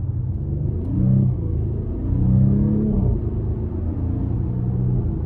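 A 2023 Audi SQ5 3.0T Quattro exhaust rumbles deeply as the car accelerates, swelling in two throaty surges over a steady low drone, heard from inside with no talking.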